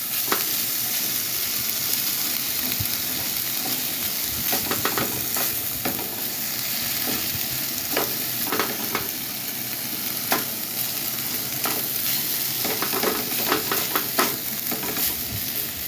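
Big, hefty pieces of steak for quesadillas cook over an open fire, giving a steady loud sizzle and hiss throughout with scattered pops and crackles, close up and without talk.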